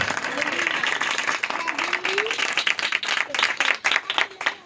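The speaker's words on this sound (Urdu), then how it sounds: "ذرا زوردار تالیاں خداوند کی جلال میں" Loud, sustained applause fills a church congregation, dense clapping running steadily throughout with scattered voices mixed in.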